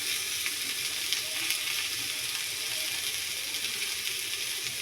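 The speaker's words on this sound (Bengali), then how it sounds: "আমার আলু আর বেগুনটা মোটামুটি ভালোভাবে ভাজা হয়ে গেছে।" Cubed potatoes and eggplant fry in hot oil with a steady, dense sizzle and faint clinks from the pan, continuous and close.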